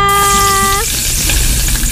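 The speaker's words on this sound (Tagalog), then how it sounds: "kasalukuyan ako ngayon ay nagpiprito ng deep fried na potato lollipop" Potato lollipops deep fry in hot oil with a loud, dense sizzle. A tonal beep sounds at the start and then cuts off, leaving only the crackling, bubbling oil.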